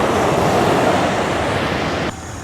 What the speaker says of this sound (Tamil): கடல் வளமை போல பாருங்கள், அதனுடைய வேகம் வளமையாக மாதிரியே அடிக்கிறத எங்களால் பார்க்கக்கூடிய மாதிரி இருக்குது